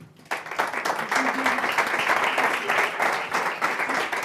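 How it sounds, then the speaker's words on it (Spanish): Audience applause greets a speaker at a music therapy talk event, starting abruptly after a short quiet moment and continuing as a steady, dense wash of clapping. "Recibamos con un sonoro aplauso a Alessia Fattorini"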